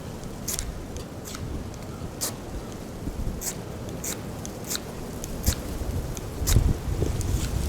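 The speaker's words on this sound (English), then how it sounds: "I'm scraping up the ferro rod because this is a new one" A new ferro rod is scraped outdoors on a very windy, cold day: about a dozen sharp, rasping strokes come at irregular intervals over a low rumble of wind, close to the listener, with no talking.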